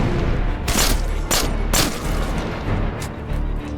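Several loud gunshots in State of Decay: Lifeline, sharp reports coming in an uneven series over a dense, rumbling game background.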